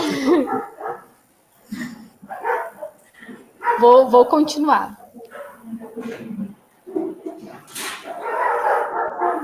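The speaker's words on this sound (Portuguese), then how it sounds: "Vocês vão escutar alguns cachorros" Dogs bark and yip in short bursts, some distant, while a person keeps talking over them.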